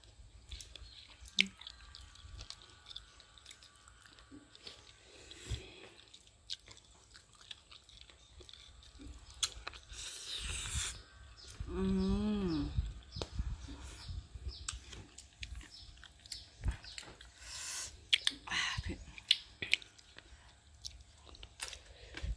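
Close, quiet chewing and crunching of food, with soft irregular bites and mouth noises scattered across the clip and a brief voice near the middle.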